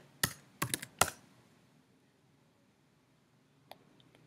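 A few quick keystrokes on a computer keyboard enter a search term into a search bar: three short clusters of close clicks at the start, then near silence, and one faint lone tap near the end.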